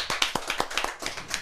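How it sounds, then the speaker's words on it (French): A small audience at a Bible quiz game claps for a contestant, with sharp, distinct hand claps in a quick, uneven rhythm, fairly near and without talk. "Donc, un point pour Romaric, applaudissements pour lui."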